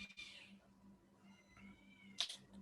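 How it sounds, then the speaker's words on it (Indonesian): A cat meows repeatedly nearby, a drawn-out yowl followed by a sharper cry, over a low steady hum in a quiet room. "dekat rumah saya ada kucing lain nih. Ribut juga suaranya"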